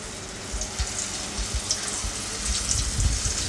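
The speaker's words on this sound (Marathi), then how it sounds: "कॉर्नफ्लॉवरचं पीठ लावून तेलात हे करूया, फ्राय करूया" Cornflour-coated chicken legs fry in hot oil with a steady, close crackling sizzle and dense popping that grows slightly louder toward the end.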